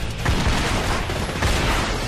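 Gunfire from the shooter video game The Darkness: a dense run of booming shots and bursts at close range, loud throughout with no pause.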